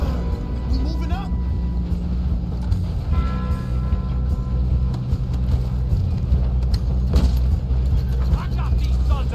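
A train runs along its tracks in Red Dead Redemption 2, a constant heavy rumble and mechanical clatter throughout, with shouted voices and brief gunfire-like bursts over it.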